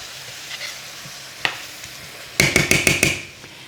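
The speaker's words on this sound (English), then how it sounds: "Now just stir that in." Flour stirred into curry powder in a hot pan for an Australian lamb curry: a quick run of scraping spoon strokes with a soft sizzle, close and alone after a quiet stretch.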